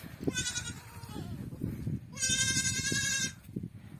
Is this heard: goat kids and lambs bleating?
yes